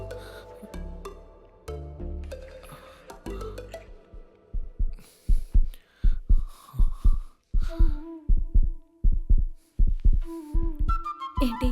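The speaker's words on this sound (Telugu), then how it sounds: "ఏంటి గుండె చప్పుడు ఎక్కువైంది?" Heartbeat sound effect in a Telugu film scene: steady, deep double thumps repeating in an even rhythm, loud and close, with no talking over them.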